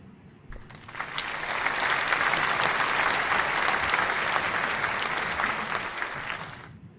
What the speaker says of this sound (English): Number one, we have Lympho Moeti, and round of applause.